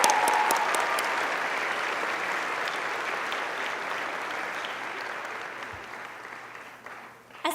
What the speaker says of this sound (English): Can we please give it a big round of applause to Class